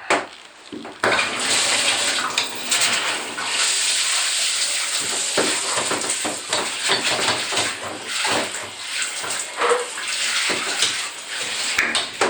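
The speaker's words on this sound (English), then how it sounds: "Gotta put some water on this." Water running steadily into a bathtub while dishes are washed, a close continuous hissing rush with small splashes and occasional clinks throughout.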